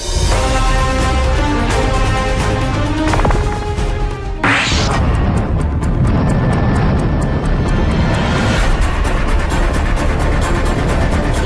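A fixed-wing airplane comes in to land with a loud roaring engine and a sharp whooshing sweep near the middle, then a heavy rumbling crash-like thud and sustained loud noise afterward.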